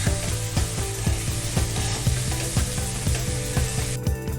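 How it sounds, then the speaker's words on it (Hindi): Round tinda gourds stirred into a hot masala pan sizzle steadily, while a spoon scrapes the pan in a quick, regular rhythm of close, moderately loud strokes that stop near the end. "अब हम इसमें टिंडे डालेंगे और इसको अच्छी तरह से मिक्स करेंगे"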